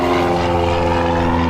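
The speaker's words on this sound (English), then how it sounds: "airplane" An airplane passes overhead near a shop, a steady, loud droning engine hum with strong tonal bands and no break across the short stretch.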